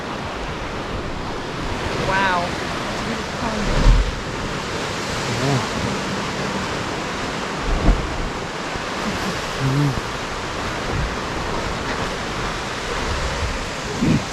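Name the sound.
waves surging at Devil's Churn, Oregon coast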